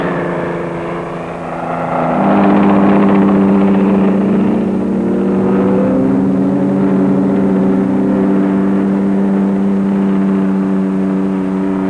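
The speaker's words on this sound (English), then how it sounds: "The Whirlwind, the Navy's familiar chopper" A Navy Whirlwind helicopter flies past at an air show, its engine and rotor making a steady, loud droning hum that swells after a couple of seconds and holds for the rest of the stretch, with no talking.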